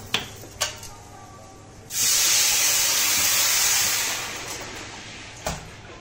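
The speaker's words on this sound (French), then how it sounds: "quand le riz est comme ça, là, bien enrobé, là on ajoute l'eau." Water poured into a hot pan over rice coated in fat bursts into a loud, steady sizzling hiss that lasts about two seconds and then fades, with a few clinks of cookware before and after.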